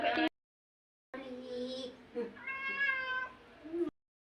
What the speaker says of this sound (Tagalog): Ah, may laking pusa. Ngaw.